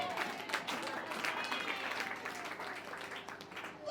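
A church congregation applauds during a prayer service, sustained clapping and crowd noise spreading through the hall for several seconds, with voices mixed in underneath.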